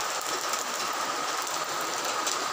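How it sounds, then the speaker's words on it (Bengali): Heavy rain pouring steadily in Agartala, a dense, continuous hiss of falling water without pauses. "আমরা আগরতলাতে খুব বৃষ্টি হইতেছে"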